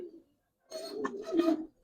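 A large pigeon gives a few soft, low cooing calls close by, a short murmur followed by a rolling two-part coo, quiet and alone.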